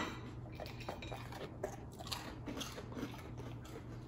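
Dry plain Cheerios cereal with no milk are chewed in a close, quiet crunching rhythm of small bites, with no talk over it.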